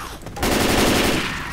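Shotgun fire in the Left 4 Dead 2 video game: a loud, dense blast of gunfire that swells and sustains for about a second before tapering, with no talking over it.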